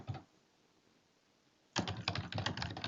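Someone types presentation notes on a computer keyboard: a single tap, a quiet pause, then a quick run of close, crisp key clicks.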